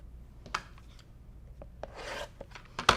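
Quilting fabric being cut into rectangles, with soft close slicing and rasping sounds, a few light taps and a longer swish of the cutter across the material.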